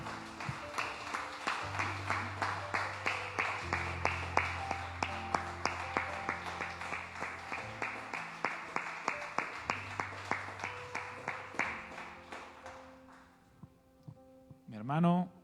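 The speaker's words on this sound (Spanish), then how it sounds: "Den un aplauso al Señor" Congregation at a church service clapping in a steady rhythmic beat along with music, with a musical tone sustaining underneath, the clapping fading out near the end as a voice begins.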